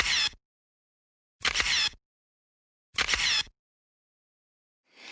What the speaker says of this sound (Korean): 찰칵 소리 3번에 눈을 3번 깜빡거려 볼까요?